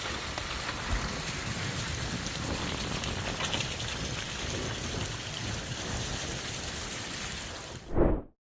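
Heavy downpour on Sumatra, Indonesia, a dense continuous hiss of rain on surfaces that cuts off abruptly near the end after a brief thump.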